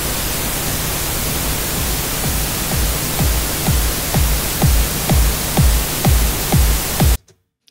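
Steady broadband hiss of pink noise fills the clip at a constant level, with a thumping kick drum joining in rhythmically before an abrupt cutoff, in a mixing session.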